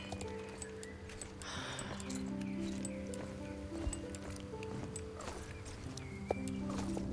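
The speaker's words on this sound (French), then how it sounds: "J'espère que le poney, il va quand même un minimum vite" Pony hooves clip-clopping in a video game, a steady trotting patter over layered ambient tones and game music, with occasional clinks.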